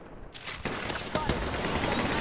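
Gunfire in a video game shooter, a series of sharp, fairly loud shots in quick succession with a faint whine behind them.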